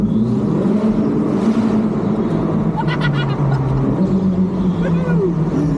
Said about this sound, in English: Finally, I can hear this this exhaust sounds on this thing, but it sounds good here.